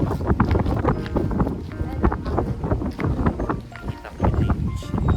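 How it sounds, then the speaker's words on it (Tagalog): Wind gusts buffet the microphone while people walk down a street toward a beach, a rough continuous rumble under voices talking. "Kita niyo yan guys. Hangin."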